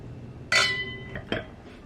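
Glasses clink together in a toast, a bright ringing chink followed by a second softer clink about a second later, close by with no talk over it.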